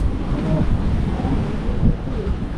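Strong wind buffets the microphone in a continuous low roar and rumble, gusting unevenly outdoors with no clear voices.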